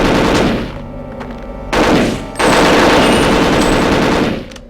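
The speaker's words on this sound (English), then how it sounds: "after I display some awful shooting again" Rapid automatic gunfire from the Perfect Dark video game, loud and close, coming in sustained bursts with short breaks between them and no voices.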